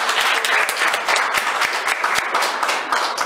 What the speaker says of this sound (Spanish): Un aplauso para La Lombriz Urbana